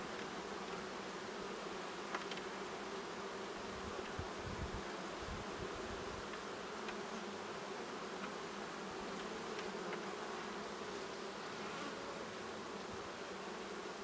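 Honey bees buzzing around an opened hive during a spring brood boost, a dense, steady hum of many insects close by with occasional nearer fly-bys.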